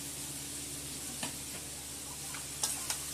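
Fried crabs, caught wild in the Sundarbans, stir in a spiced masala in a pan with a steady low sizzle, broken by a few scraping stirs and light ticks of a spatula.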